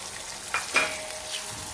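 Finely chopped coconut frying in coconut oil, a soft steady sizzle with two brief stirring clinks close by.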